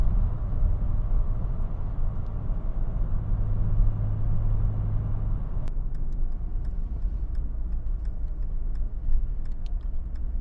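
A 1990 BMW 535i E34 accelerating, with a steady engine drone that holds and rises from inside the car, and the note shifting midway as the gear changes.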